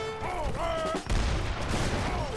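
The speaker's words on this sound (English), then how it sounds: "Not before 3 mortars pop off from Ivar." Artillery mortars in an Age of Empires III treaty match fire in a loud, dense volley of booms and blasts, with tonal music and game sounds layered underneath.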